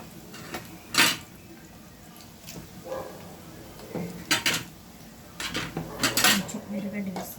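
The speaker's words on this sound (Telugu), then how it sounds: "ఇప్పుడు వంకాయలు కట్ చేసి అందులో పెట్టేస్తాను." Cut brinjal pieces go into a pan while cooking a brinjal masala curry, giving scattered clinks and clatters of metal cookware and utensils at close range over steady kitchen background noise.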